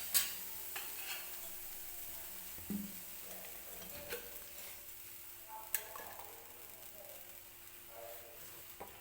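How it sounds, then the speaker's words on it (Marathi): Fresh green chickpeas roasting in a pan with a small splash of oil; a faint, low sizzle runs underneath scattered ticks and light scraping taps from stirring. "तर हरभरा सुद्धा भाजतोय."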